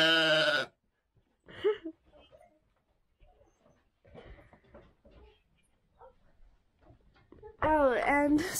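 A close sheep bleat opens the clip and another ends it. Between them are quiet rustling and faint murmurs, with a possible dog whimper.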